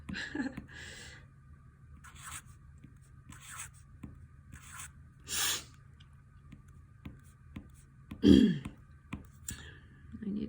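A pen scratches and taps on paper in short bursts with pauses between, close and quiet, with a throat clearing partway through.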